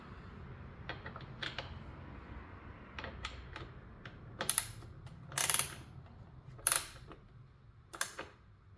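Quiet mechanical clicks and a few louder ratcheting bursts come from a tool tightening a bolt slightly during an oil change on a Kawasaki Ninja 400, close by and with no voices.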